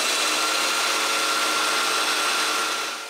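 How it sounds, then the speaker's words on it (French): A domino joiner cuts mortises in wood for a bamboo-bicycle workbench, producing a loud, continuous high-pitched power-tool whine that holds steady and then begins to wind down at the end. "je me sers de cette marque pour percer les mortaises"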